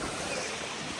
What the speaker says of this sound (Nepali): यो हो खोला।